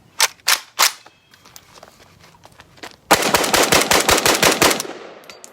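Rapid bursts of automatic fire from a PSAK-47 AK-pattern rifle, loud and close: a few separate sharp shots come first, then after a pause a dense, fast string of about a dozen rounds.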